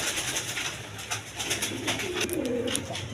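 Pigeons coo repeatedly at a breeding farm, soft throaty calls close by with other birds' calls behind, no voices.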